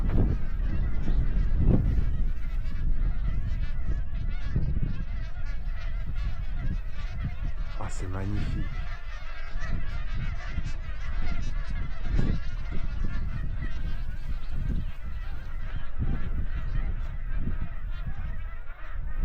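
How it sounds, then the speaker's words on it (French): A flock of wild geese honks repeatedly, loud and overlapping in a noisy chorus, with a person briefly speaking under the calls. "c'est des oies sauvages"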